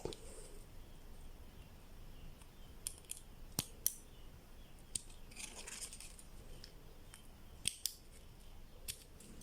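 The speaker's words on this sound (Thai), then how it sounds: "แล้วเราก็ใช้กรรไกรตัดนะครับ" Scissors snip through a plastic strip while a kite bridle is being made, giving a few sharp, close cutting clicks scattered over several seconds against a quiet room background.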